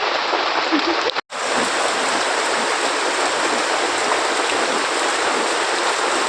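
Heavy monsoon rain pours steadily, a dense close wash of noise that fills the whole stretch, broken once by a brief dropout.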